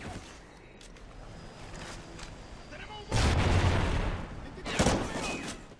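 Video game gunfire from Call of Duty: Ghosts, a heavy-recoil weapon firing in loud bursts with booming impacts that swell midway and again near the end over a noisy battlefield backdrop.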